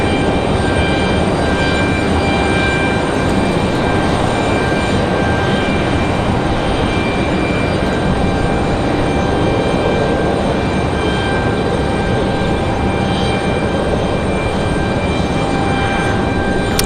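A Southwest airliner taxiing toward departure on runway 23 right at Raleigh-Durham airport, a continuous broadband engine rumble and hiss with faint whining tones, steady and fairly loud throughout, no talk.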